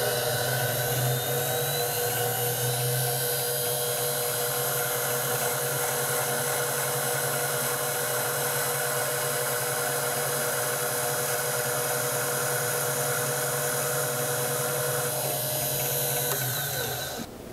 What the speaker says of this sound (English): I'm going to drill three holes in here and then maybe press fit them in